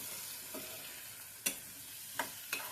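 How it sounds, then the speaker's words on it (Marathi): Drumstick vegetables being stirred with salt in a pan, a few distinct scraping knocks of a spoon against the metal spaced out over a soft background hiss, fairly faint and close. "मीठ टाकून मस्त आपण मिक्स करून घेत आहोत"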